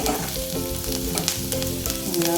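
Onions frying on a medium gas flame, a dense continuous sizzle with light stirring clicks, close and steady over a faint tonal hum, no voices.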